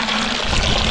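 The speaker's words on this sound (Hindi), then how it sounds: "भिंडी को लेने के बाद देखिए नलके के पास आ गए, इसको साफ पानी से धो लेते हैं।" Clean tap water pours and splashes over freshly picked farm okra being washed outdoors, a loud, steady rush of running water close by.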